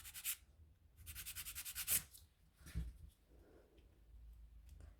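A nail file rasps over acrylic nails in quick rhythmic back-and-forth strokes, a soft scratchy run of about a dozen passes followed by a few fainter rubs, close and quiet, with no talk.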